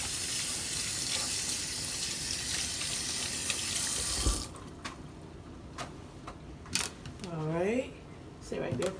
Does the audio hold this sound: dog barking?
no